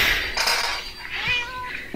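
A cat in Minecraft meows close by, a couple of short, clear mews rising over a brief clatter of in-game sounds.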